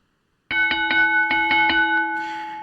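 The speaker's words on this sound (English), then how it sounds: "And this signal sounds like this." A bright electronic chime, a timing start signal at a forum, rings out a quick series of about seven tones, then holds a final sustained note that slowly fades.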